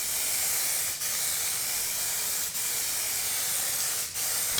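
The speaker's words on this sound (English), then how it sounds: "So you may be wondering why I'm adding another coat of clear coat." Clear coat sprayed from an aerosol can onto a Porsche 996 taillight, a continuous close hiss broken by three brief pauses, with no talking.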